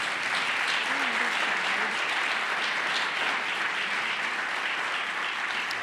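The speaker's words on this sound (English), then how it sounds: "A round of applause for our panelists" Steady applause from an audience at a Polk County cancer event, clapping for the panelists, fills the whole stretch evenly at moderate volume with no talking over it.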